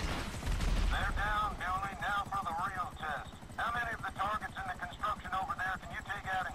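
Rapid machine gun fire in a shooting gallery video game crackles steadily in quick bursts throughout, partly buried under continuous excited talk.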